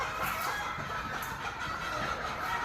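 Many hens cluck continuously in a gamefowl breeding pen, ten hens kept with one cock, forming a dense, steady chorus of overlapping calls at moderate distance with occasional sharper squawks.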